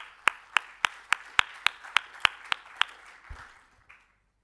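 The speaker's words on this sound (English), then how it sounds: "Let's give her a round of applause." A small audience at a European security conference claps, about ten sharp, evenly spaced claps ringing in a reverberant hall before the sound dies away into silence.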